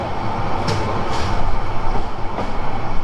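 The Cox's Bazar Express train rumbles at Jhinuk station with a steady low roar and faint rail clatter, fairly close and continuous, with no talk.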